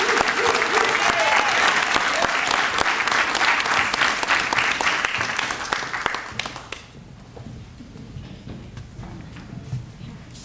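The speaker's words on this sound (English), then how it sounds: "let's give them another round of applause" A crowd applauds loudly and steadily at the Saint Paul EMS Academy graduation ceremony, then the clapping thins out and fades to scattered claps and room noise near the end.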